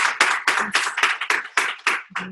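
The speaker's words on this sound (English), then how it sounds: "Please again give her another round of applause." A short burst of clapping from a small group, quick and uneven, fairly close and with no voices.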